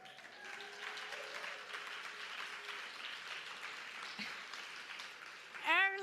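Audience applause fills a synagogue spring fundraiser concert hall, a steady, moderately loud wash of clapping that carries on evenly for several seconds before a brief louder tonal sound at the end.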